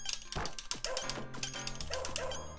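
A dog companion in the Shadow Dancer arcade game gives short barks and yelps amid dense game effects, music and hits, all loud and continuous.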